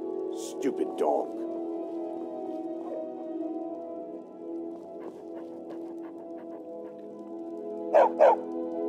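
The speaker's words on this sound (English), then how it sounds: "Stupid dog." A dog gives a couple of short barks early on and another close pair near the end, over a steady low tonal drone, with a voice speaking in between.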